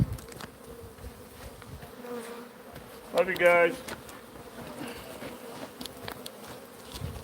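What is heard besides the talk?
bees buzzing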